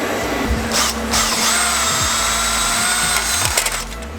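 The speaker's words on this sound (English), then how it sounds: "I've got to drill out the holes to fit this massive M8 bolt" A power drill whines steadily at close range, its pitch shifting as it bites into a Lotus Elise exhaust bracket, drilling holes for an M8 bolt, with brief clicks and knocks around the drilling.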